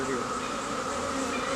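Honeybees swarm loudly around hive frames during a swarm rescue, a dense steady buzz filling the whole moment with no pause.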